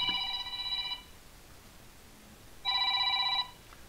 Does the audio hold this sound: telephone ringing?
yes